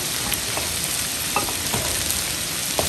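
Garlic shrimp frying in a pan, a close, even sizzle with a few scraping stirs of the spatula throughout.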